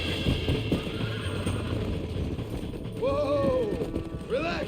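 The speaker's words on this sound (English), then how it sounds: "Could have just taken their damn horses." Horses in the video game Red Dead Redemption, with clip-clop hooves and rattling tack early on, then two loud whinnying neighs near the end, close by.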